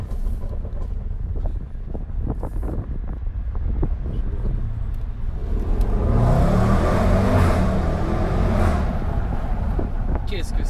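A Range Rover SVR engine accelerates hard, its roar building to a loud sustained rush midway, with wind buffeting, clicks and a voice in the background.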